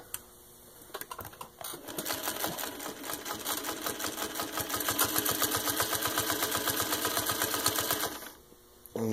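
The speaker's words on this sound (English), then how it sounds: "I'm basically just going to show you how well it stitches" A serviced 1952 Singer 301 long-bed sewing machine stitches steadily for about seven seconds, its rapid needle rhythm loud and close, running slow and then faster before stopping.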